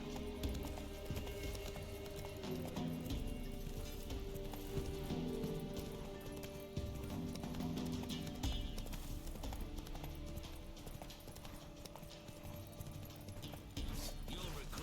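The horse Roach gallops in The Witcher video game, a rapid, continuous clip-clop of hooves with occasional heavier thuds.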